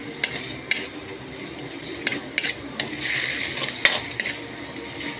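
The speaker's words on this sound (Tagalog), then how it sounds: "Medyo pinirito ko muna yung yung balat ng hipon." Shrimp shells fry in a pan with a crackling sizzle, punctuated by sharp clinks and scrapes of stirring against the metal, close and fairly loud with no talk.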